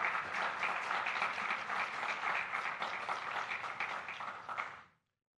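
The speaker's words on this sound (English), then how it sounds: "Give Patrick and Mike a round of applause." Steady applause from an audience after a presentation, dense clapping of many hands that holds for about five seconds and then fades out.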